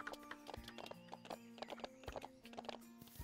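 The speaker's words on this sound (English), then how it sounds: "I kind of want to run around with our horse" Horse hooves clip-clopping at a steady run in The Ranch of Rivershine video game, repeated hoofbeats under music-like tonal background, moderately quiet.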